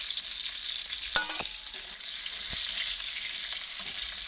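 Fish sizzle steadily in hot oil, a close bright hiss broken by a few quick scraping stirs and clinks from a utensil against the pan.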